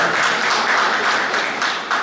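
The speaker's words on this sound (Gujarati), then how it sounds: "જોરદાર તાળીઓ સાથે વંદન" An audience at a state-level literary seminar gives a dense, steady round of clapping that stays fairly loud and even, with no voices standing out.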